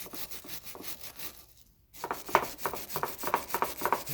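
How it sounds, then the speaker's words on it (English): Brush scrubbing a Mikuni carburetor from a Yamaha 1200 NPV clean, rapid close rasping strokes that pause briefly midway, then resume in a quick rhythmic back-and-forth. "Going to use this brush and just a small screwdriver to clean in here."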